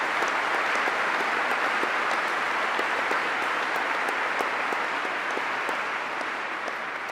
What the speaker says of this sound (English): All applause for you.